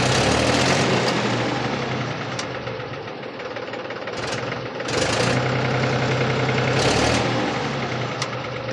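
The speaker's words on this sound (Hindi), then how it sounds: "अब रेस दे के दिखा देता हूं मैं इसकी रफ्तार।" A tractor engine, freshly repaired after a power steering fault, runs loud and steady close by, rising in a few revving surges over a constant rumbling idle.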